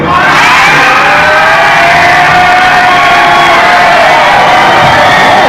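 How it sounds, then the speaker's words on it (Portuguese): Loud, dense crowd at a São Paulo restaurant cheering and whooping continuously, with shouts and high voices layered over a constant roar. "Eu tô achando essa torcida mais animada do que a sua torcida, hein, Tatiana?"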